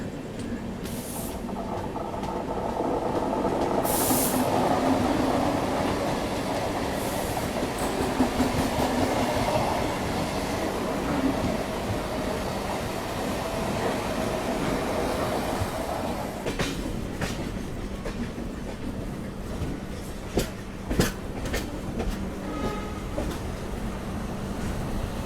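Konkan Kanya Express rolling into Mumbai CSMT station: a steady, fairly loud rumble of wheels and carriages with a low drone, then sharper clanks and knocks near the end as the train slows. No voices.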